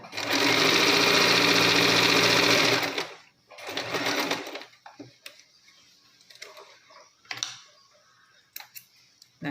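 Sewing machine stitching a full circle umbrella frock, a loud steady whirring run for about three seconds, then a shorter burst followed by scattered clicks and handling noises.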